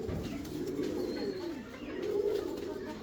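Fancy pigeons coo steadily in low, rolling murmurs, with soft overlapping calls close by and faint bird chatter in the background.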